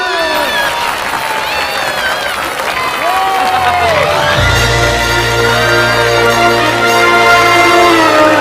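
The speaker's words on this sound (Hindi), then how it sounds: "तालियां तालियां" Live stage show crowd applauding and cheering, with steady clapping and shouts throughout, joined by a loud sustained low rumble or music in the second half; voices mixed in.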